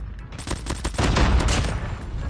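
An HVK rifle fires in Call of Duty Mobile, rattling off a rapid, loud burst of automatic shots that swells toward the middle and keeps going to the end.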